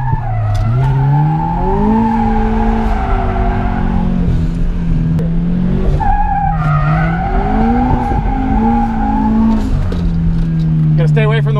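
Turbo Subaru BRZ drifting, its engine revving hard and rising and falling in pitch while the tires squeal continuously, loud and close.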